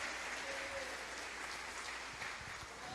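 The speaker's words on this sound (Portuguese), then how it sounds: "Aplauda o nome do Senhor." A church congregation applauds in a steady, dense wash of clapping that fills the space evenly, with a faint voice briefly audible partway through.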